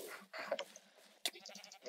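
Sheep bleats from a Minecraft Mineplex minigame, a few short game-sound bleats and clicks layered with faint background chatter.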